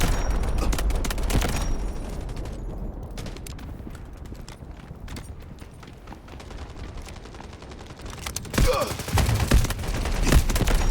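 An M250 machine gun fires in the shooter Delta Force, dense rapid bursts of gunfire that thin out in the middle and swell again near the end, loud and continuous, no voices heard.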